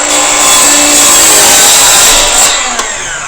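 A power saw cuts through wood molding, giving a loud, steady whining buzz close by that eases off near the end.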